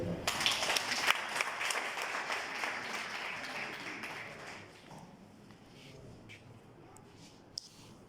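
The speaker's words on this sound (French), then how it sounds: "Applaudissez pour les femmes." An audience at a women's advocacy performance breaks into loud, dense applause that starts strong, then fades to scattered claps and a few isolated sharp taps.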